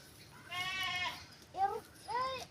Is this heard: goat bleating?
yes